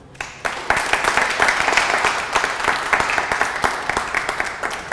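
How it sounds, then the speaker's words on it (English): A round of applause from an audience at a talk in a coworking space, dense and steady clapping from many hands, fairly close and loud, lasting throughout after a brief quiet start. "Can I please ask for a big round of applause for Andrew Vild from Project Everest?"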